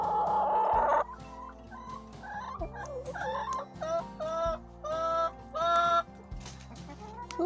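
Hens cluck and squawk repeatedly up close, overlapping calls rising and falling over a low steady hum.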